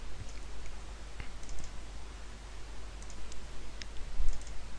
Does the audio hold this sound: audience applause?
no